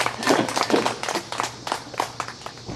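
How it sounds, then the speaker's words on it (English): Audience applause at a small-town first anniversary celebration following a dollar-bill magic trick, a moderately loud, uneven patter of hands clapping that fades toward the end. "Is that worth a great big round of applause?"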